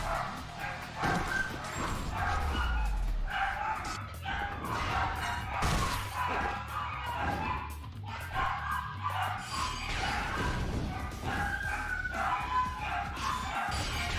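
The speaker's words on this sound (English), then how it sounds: "Sorry about the dogs." Several dogs bark loudly and repeatedly indoors, sharp yips and woofs that come in irregular bursts and overlap, with a few whimpers and thuds among them.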